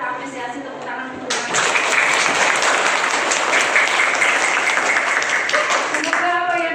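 Applause from a classroom or teacher-training session audience for Mas Septian starts abruptly after a moment of talk, then keeps up as a steady, dense wash of clapping, with voices audible around it.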